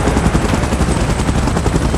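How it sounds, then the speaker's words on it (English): A helicopter in PUBG Mobile gives a continuous, loud, close rotor thrum with dense rhythmic chopping and no pauses. "Chopper in position."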